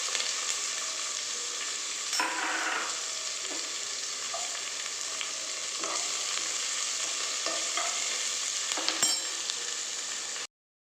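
Onion, curry leaves and mustard seeds fry in a pan with a steady, close sizzle lasting about ten seconds. Occasional sharp crackles and stirring scrapes cut through it before it stops abruptly.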